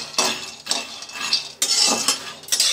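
Peanuts roast in a hot pan, a few sharp scraping and clinking strokes from a utensil against the metal, loud and close, with brief pauses between stirs and no talking.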